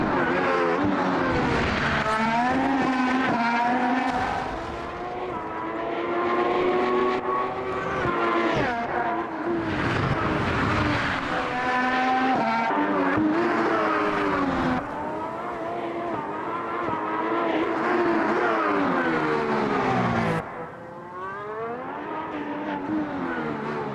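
A race car driven flat out on a quick lap of the Monaco street circuit, its engine screaming continuously and loud up close as revs climb and fall through gear changes, with brief tire squeal in the corners.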